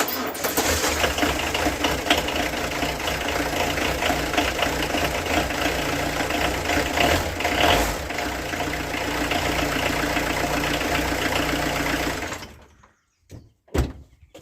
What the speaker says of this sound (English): Cold, spluttery, typical Peugeot diesel.